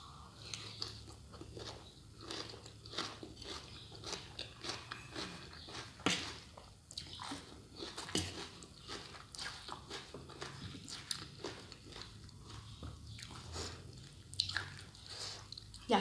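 Crunchy, wet chewing and biting on spicy green mango salad, close to the mic, with steady irregular bites and mastication throughout and no talking.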